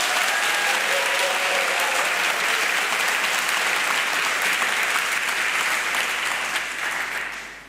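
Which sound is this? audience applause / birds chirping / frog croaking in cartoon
audience applause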